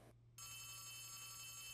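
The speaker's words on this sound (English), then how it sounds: "The phone is ringing." A telephone rings steadily with a sustained electronic tone in a Five Nights at Freddy's horror video game, clear and alone without speech.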